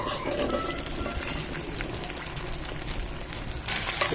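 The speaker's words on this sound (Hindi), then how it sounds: "भिंडी को अच्छी तरह से फ्राई कर लेते हैं।" Okra and green chillies fry in hot ghee, a continuous close crackling sizzle filling the short stretch at an even loudness.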